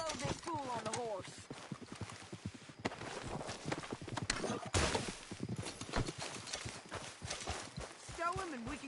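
Horse hooves clip-clop steadily in a video game, a close, regular walking rhythm running under continuous male conversation, with a brief whinny near the start and at the end.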